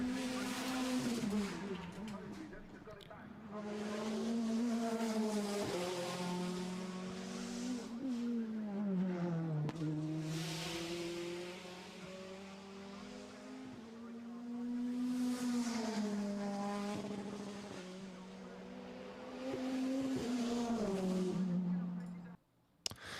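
A 2021 British Touring Car Championship race car engine roars and revs through gear changes down a back straight, pitch climbing and dropping repeatedly as it speeds past, loud and continuous.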